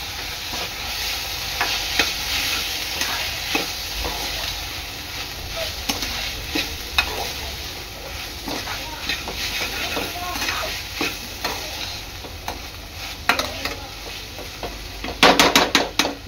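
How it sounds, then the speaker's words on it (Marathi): Pizza sauce being stirred into a filling in a pan: steady scraping and clinking of a spoon against the pan over a continuous sizzle, close and fairly loud, with a quick burst of rapid knocks near the end and no talking. "आता आपला पिझ्झा सॉस टाकायचा आहे. मिक्स करायचं आहे चांगलं."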